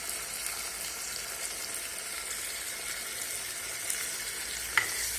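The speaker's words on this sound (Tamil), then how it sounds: "நல்லா மூடி வச்சு தக்காளியை நல்லா வதக்கி விடுங்க." Tomatoes sizzle steadily in a pan for a dried fish (karuvadu) kulambu, a constant close frying hiss with a faint clink of utensil near the end and no talking.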